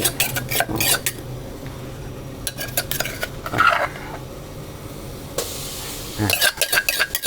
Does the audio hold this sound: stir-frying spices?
yes